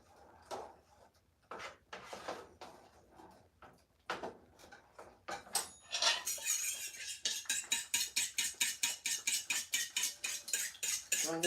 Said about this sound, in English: And you're going to stir it,